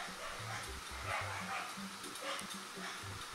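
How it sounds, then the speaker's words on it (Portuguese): A dog barks repeatedly in the background, a rapid run of short, muffled yips and woofs heard faintly beneath video game music. "o cachorro latindo"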